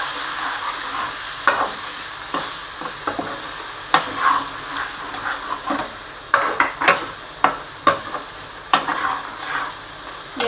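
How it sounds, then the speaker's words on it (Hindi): Masala spices for chicken curry fry in a pan under a steady sizzle, with a spoon stirring and scraping the pan in repeated sharp knocks close by. "ये अच्छे से भुन रहा है।"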